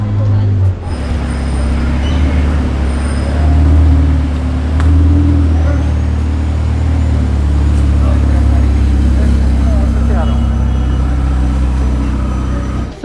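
A Ferrari 488 Pista sports car engine rumbles loudly and continuously at a classic car rally, a heavy low drone that swells slightly mid-way, with background crowd and road noise.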